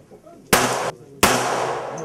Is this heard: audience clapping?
no